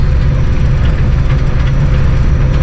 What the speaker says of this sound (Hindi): ट्रेन का जिसको ये पुल कर रहा है 2000 हाथ पावर का लोकोमोटिव